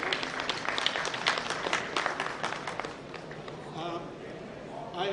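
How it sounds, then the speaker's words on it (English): An audience at a session claps for its resource persons, a dense round of applause that fades after about three seconds as voices carry on. "we all should give them a great clap"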